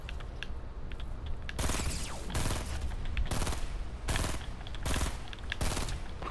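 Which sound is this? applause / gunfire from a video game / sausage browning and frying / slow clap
gunfire from a video game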